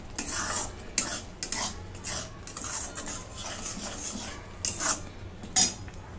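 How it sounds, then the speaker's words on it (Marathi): Whole masoor lentils stirred in a pan with a utensil, giving repeated scraping and rubbing strokes with faint sizzling, close and fairly quiet, no voices. "आता हा मसूर परतून घेते."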